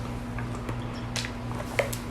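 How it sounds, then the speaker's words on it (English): A person takes a quiet sip of water with soft wet mouth clicks and a small gulp, heard close and faint against a low steady hum. "Getting a sip of water."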